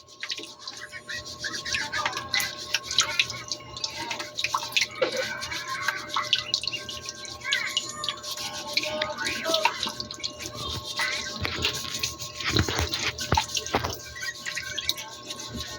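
Balut duck eggs are rinsed under running water, giving light splashing and dripping with intermittent clinks and knocks, fairly quiet and continuous throughout.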